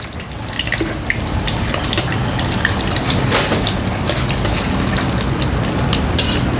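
Egg-battered eggplant frying in a pan gives a loud, continuous sizzle and crackle close by, with bright spitting bursts throughout and no speech.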